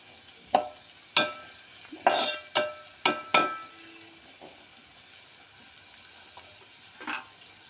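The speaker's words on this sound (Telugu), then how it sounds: "సో ఇప్పుడు బీన్స్ వేసుకోవాలి. సన్నగా తరిగి పెట్టిన బీన్స్" Thinly chopped beans are added to a pan and stirred, giving several sharp scraping and clattering strokes against the metal, then a quieter sizzle with one more stir near the end.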